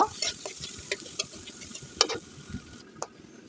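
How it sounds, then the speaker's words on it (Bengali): Chopped onions and green chilies fry in a wok for an egg curry, with a soft background sizzle and scattered sharp clinks and scrapes of a spatula against the metal, close by. "একই কড়াইয়ে পেঁয়াজ কুচি আর কাঁচামরিচ দিয়ে দিব দিয়ে এগুলোকে আমি ভালোভাবে করে ভেজে নিব"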